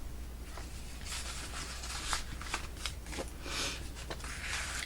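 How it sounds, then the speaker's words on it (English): A greeting card slides in and out of a tuck pocket on a handmade winter-themed journal, giving soft papery scrapes and brisk shuffling rustles in several close, quick bursts with no talking. "So I just put the card in and out from the inside"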